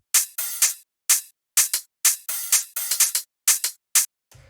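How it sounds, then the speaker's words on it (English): Bright, hissy hi-hat hits from a minimal tech house beat, played alone in short bursts and clusters with a loose, syncopated rhythm, close and crisp, ending on a soft low thump. "the last thing we have here will be the hi-hats"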